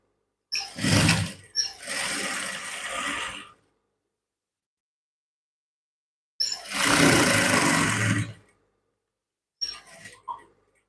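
A sewing machine runs in bursts, a buzzing, whirring stitch sound starting and stopping several times with silent pauses between, fairly close.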